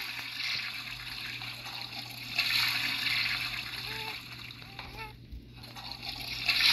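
A toilet flushing fills the space with a continuous rushing, splashing swirl of water that swells and dips over several seconds, while voices murmur faintly underneath.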